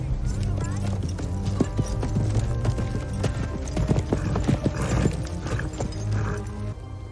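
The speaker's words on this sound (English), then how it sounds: "Isildur's horse." Horse hooves clip-clop steadily in a fantasy drama scene, close and fairly loud, mixed with music, other movement noise and talk throughout.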